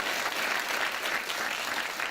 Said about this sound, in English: that's worth a round of applause, absolutely.